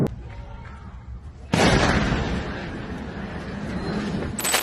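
A deep boom from an Iranian missile strike on Israel hits suddenly and rumbles on for several seconds, loud and roaring, followed by a second sharp crack at the end.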